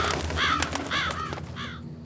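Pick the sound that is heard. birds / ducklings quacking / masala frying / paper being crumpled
birds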